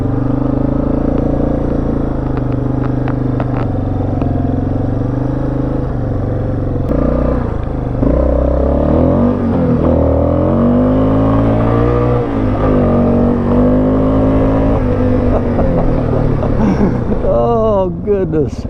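A Venom Thunder 125 and a Yamaha Wolverine 350 four-wheel-drive ATV churn through mud, engines droning and revving loudly and continuously with rising and falling pitch, while people talk over the noise.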